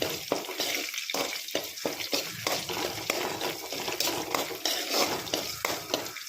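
Chopped onion and green chilli sizzle in hot oil in a pan for a squid curry, a steady crackling fry broken by regular scraping strokes as a spoon stirs them.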